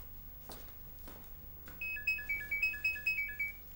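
A phone ringing indoors with a quiet, repeating electronic ringtone melody of short chiming notes that starts partway through after a few soft knocks.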